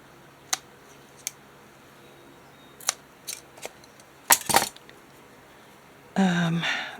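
Scissors snipping through ribbon for a junk journal page, heard as a few sharp isolated clicks and snips close up in a quiet room, followed by a brief rustle at the end.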